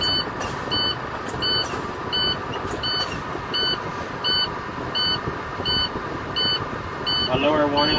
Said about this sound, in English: Now, I will do my low air warning test.